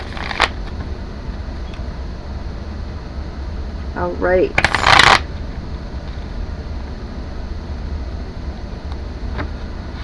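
Tarot cards are shuffled in a brief close riffle burst near the middle, set against steady background noise, with a short spoken word just before it.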